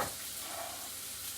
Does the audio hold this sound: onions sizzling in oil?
yes